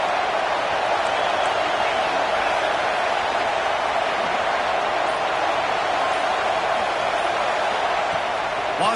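Steady wash of broad crowd noise fills a football stadium, a sustained roar of cheering that holds at an even level throughout with no clear breaks.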